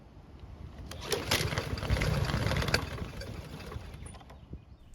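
A primed Murray lawn mower engine cranks and tries to catch, giving a loud, rough burst of sputtering engine noise that swells in the middle and then fades back without settling into a steady run.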